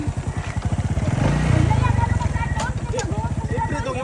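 Motorcycle engine idling with a steady, rapid low pulsing throb, running close by throughout and swelling briefly in the middle, with people talking over it.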